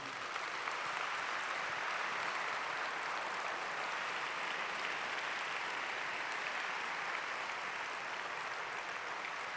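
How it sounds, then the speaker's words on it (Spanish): An audience claps in sustained applause at a talk, a dense, even wash of many hands from start to finish with no voices over it. "merece que ustedes me acompañen a aplaudirlo"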